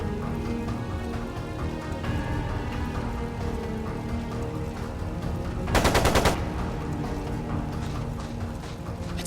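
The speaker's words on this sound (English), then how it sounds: "It sounded like a machine gun." Machine gun fire in the video game Trails of Cold Steel II, a short loud burst of rapid shots about two-thirds of the way through, set against steady rain-like background noise.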